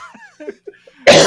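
A single harsh, loud cough bursts out at the end, close to the microphone, right after a few brief vocal sounds and breaths.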